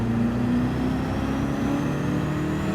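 Race car engine in Gran Turismo 7 droning steadily at low revs, with a brief pitch step as gears change quickly, loud and continuous with no talking.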